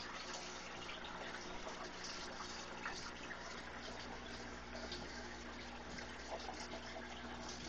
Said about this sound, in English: that is a little waterfall that I built. Just stack some rocks.